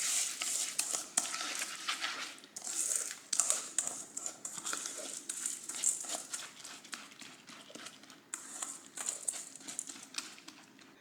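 Gluten-free crab cake ingredients with panko breadcrumbs being stirred together in a bowl, a steady run of close scraping and clinking strokes with soft crinkly texture, no talking over it.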